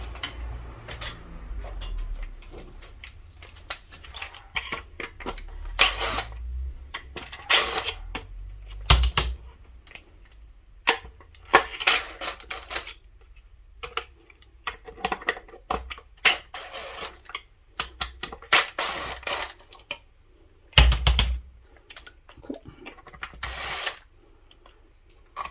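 Small Torx screws being worked loose with a T15 bit from a Dyson DC24 upright vacuum, giving scattered clicks, scrapes and ratcheting taps in irregular bursts with quiet gaps, close and fairly faint.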